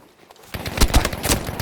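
Rapid video-game gunfire, a loud run of sharp automatic shots in close succession following a short quiet start.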